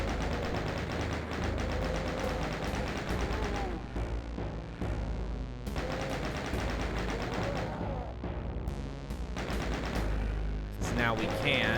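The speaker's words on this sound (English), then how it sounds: "we're gonna go ahead and probably try and kill all of these chain" Relentless shooting from Doom's Plutonia Experiment, Map 10 Onslaught, as chaingunners are gunned down: dense, loud bursts of rapid gunfire and explosions run almost continuously, with a few brief gaps.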